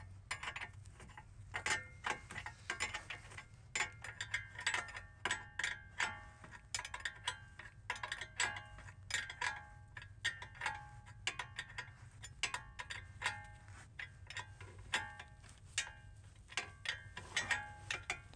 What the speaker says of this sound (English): a 22 millimeter wrench or 7/8 wrench will work also.